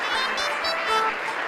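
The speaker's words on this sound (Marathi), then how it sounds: "टाळ्या" A hostel audience claps in a steady, sustained wash of applause, mixed with some crowd voices, at an even level throughout.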